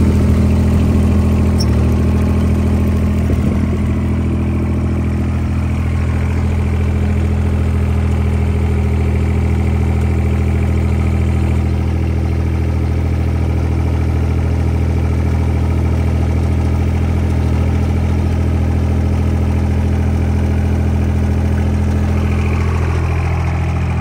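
A John Deere 430 diesel garden tractor engine runs at a steady, loud idle close by, a constant low throbbing drone that holds without change and has no talk over it.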